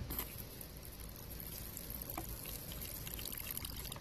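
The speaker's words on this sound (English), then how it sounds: "Let's get some more water in her dish." Faint water pouring and trickling steadily into a tarantula's dish, a soft continuous splashing with no voices.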